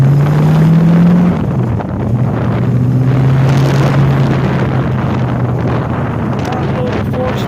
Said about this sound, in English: Sorry for all the wind noise and all the exhaust noise